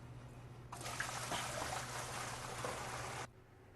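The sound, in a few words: sanitizer solution poured into frozen beverage machine hopper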